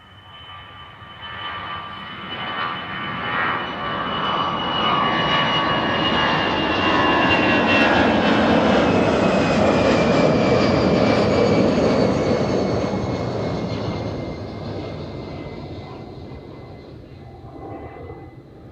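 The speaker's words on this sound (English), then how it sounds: "This will be the British Airways flight, if I'm supposed, yeah, off to London." A British Airways jet takes off at Amsterdam Schiphol Airport, its engine roar building from a distant rumble to a loud, sustained whine and thunder, then slowly fading as it climbs away.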